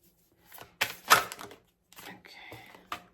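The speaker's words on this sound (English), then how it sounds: "Again with the shuffling." Tarot cards shuffled by hand during a reading, a few close, sharp riffling bursts and soft card clicks spread over a few seconds, with no talking.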